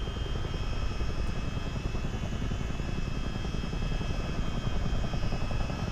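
Loud, steady whir of a CH-47D helicopter's turbines and transmissions in a video game, a dense continuous drone with rapid rotor chop throughout, no voices over it.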